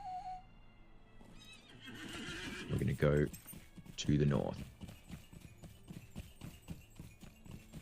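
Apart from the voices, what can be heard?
horse neighing and hooves clip-clopping in Lord of the Rings Online video game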